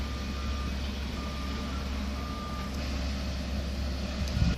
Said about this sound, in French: les camions qui passent viennent déverser leur gravier là-bas.